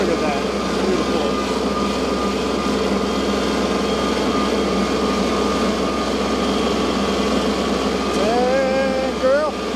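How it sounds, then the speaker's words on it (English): A tractor engine running steadily while driving through woods, a constant droning rumble that stays loud and close throughout, with brief high squeaky sounds near the end. "Dang, girl, she's ripping with the tractor."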